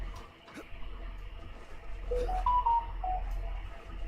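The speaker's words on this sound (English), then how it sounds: "Oh, that's my phone. Don't worry about that." A phone gives off a short run of electronic beep tones, four or five stepped pitches in quick sequence, heard clearly over a low background hum.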